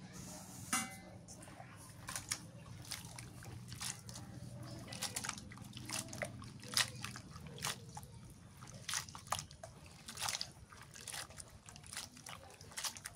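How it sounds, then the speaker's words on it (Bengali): A banana being washed by hand in water, faint soft drips, trickles and small squishy splashes repeating irregularly in a quiet kitchen. "এই কলাটা ধুই।"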